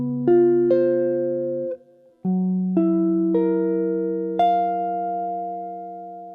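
Jazz guitar sounds a dominant 21st chord, its notes entering one after another and ringing together, then a short gap before a second staggered voicing of the chord rings out clearly, with no talking.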